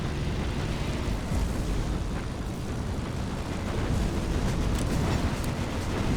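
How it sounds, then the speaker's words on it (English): A ship's magazine explodes in the naval video game Battlestations Pacific Remastered, a sustained loud roar and rumble of blast and fire that carries on steadily throughout, mixed with battle noise. "That's a magazine explosion."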